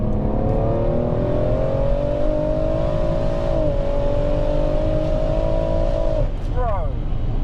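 A 920bhp big-turbo BMW M140i with a built engine accelerates hard in 4th gear, a loud, steadily rising engine note from inside the car that holds for about six seconds before a quick gearchange blip, with voices talking over it.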